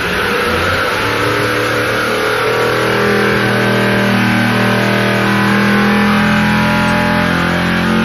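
A V8 Supercar race engine runs on a dyno in a test cell, its loud, steady roar climbing in pitch as revs build toward the 7,500 RPM limit, close and sustained with no talk.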